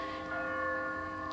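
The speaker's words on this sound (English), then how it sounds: "It's the sound of that bell, closer, louder, insistent." A bell rings with a steady, sustained metallic tone, loud and close, its resonant overtones droning continuously.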